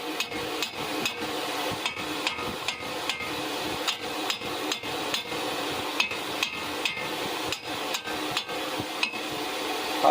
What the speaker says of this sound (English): you may have to use a hammer